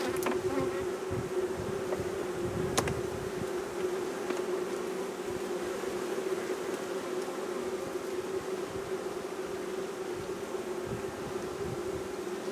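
Honey bees hum steadily and close at an open hive being repopulated with a queen, a continuous dense buzz that holds level throughout with a few brief louder passes.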